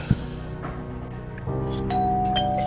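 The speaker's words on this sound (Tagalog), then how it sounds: "Ay, may nag-doorbell." A doorbell chimes indoors in a home, its tones ringing out clearly and sustained over a low background hum; no one speaks.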